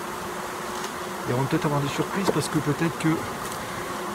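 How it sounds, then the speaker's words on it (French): Honeybees hum around an opened finishing hive during grafting work, a close, continuous buzz that swells and wavers as someone talks over it. "Là, il y a des abeilles quand même."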